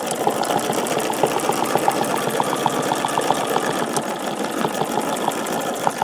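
A sewing machine stitches along a feather template quilting pattern, running steadily and close with a fast, even mechanical rhythm and no pauses.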